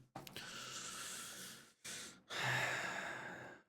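A pet named Apollo breathes noisily in soft, drawn-out snoring breaths, a couple of long inhales and exhales close by with a brief pause between, faint and with no talking.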